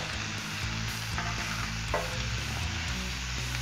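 Breakfast burgers sizzle on a Blackstone griddle, a steady close frying hiss running evenly throughout with a few light scraping touches and no talking.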